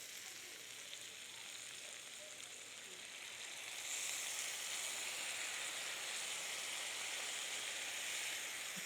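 White wine poured into a hot pan of chicken piccata sizzles steadily, a dense frying hiss close by that swells louder partway through and holds.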